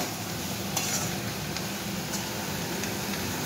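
Onion stalks and potato fry in a covered pan, giving a soft, steady sizzle with a few faint clinks and scrapes scattered through it.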